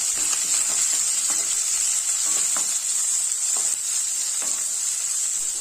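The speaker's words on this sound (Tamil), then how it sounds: "ரெண்டு பெரிய வெங்காயத்தை கட் பண்ணி வச்சுருக்கேன் இதையும் சேர்த்துக்கலாம் இதை வணக்கிக்கலாம்" Onions and dried red chillies sauté in a pan for potato masala, making a loud continuous sizzle and hiss with repeated scraping stirs throughout. No one speaks.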